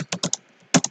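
Typing on a computer keyboard while entering Python pandas code: short crisp key clicks in two quick clusters with a brief pause between them, close and alone.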